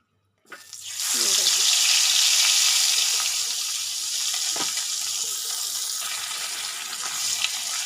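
Fish hits a hot pan and a loud, dense frying hiss starts abruptly. It holds steady and then eases slightly as it carries on.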